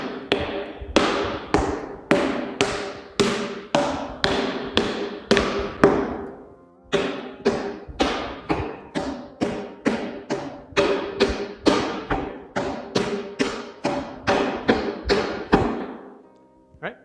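Rattan sticks strike a tire apparatus in a rapid rhythmic series of hard thumping hits during a stick fighting partner drill, close and loud, with a brief pause midway before the strikes resume.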